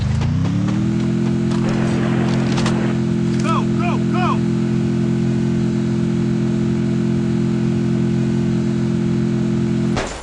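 A vehicle engine in a shooting video game gives a loud, steady droning hum that holds without a break, with a few brief chirps over it.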